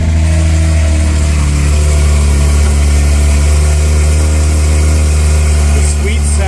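A 2020 Porsche 911 Carrera S (992.1) runs at a loud, steady idle with a dense, rumbling drone after starting up, close and continuous throughout.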